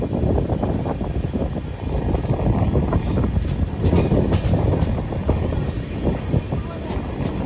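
An Indian Railways train pulls out of a crowded station, a steady loud rumble and rattle of carriages with clattering bursts, while voices call out on the platform around it.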